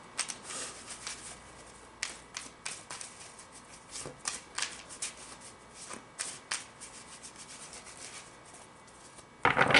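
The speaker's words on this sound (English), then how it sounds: "I'm going to pull 3 cards, past, present, and future, from the Sexual Magic Tarot." Sexual Magic Tarot cards being shuffled and handled, giving soft repeated rubbing and flicking sounds in irregular bursts, fairly quiet and close, with no talk.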